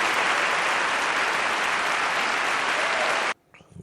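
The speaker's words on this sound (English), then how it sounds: "giving this young man an applause" An audience claps for a young man in a dense, steady burst of applause that cuts off abruptly, leaving a brief quiet tail.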